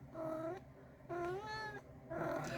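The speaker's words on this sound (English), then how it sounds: "Kitty." A cat meows three times in close succession, each a clear drawn-out cry, the middle one rising and bending in pitch, heard up close over a faint background hum.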